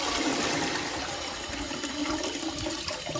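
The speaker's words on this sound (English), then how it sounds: "It's kind of a cool flushing though." An old, leaky toilet flushes with a loud, steady rushing gush of water that carries on for about three seconds at close range, with no talking.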